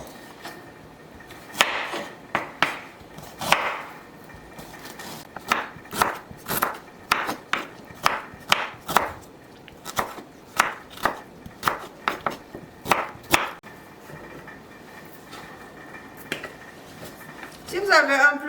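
A knife chopping ginger root on a board for pineapple ginger juice, close and crisp, with a run of irregular chops that come in quick clusters and then pause.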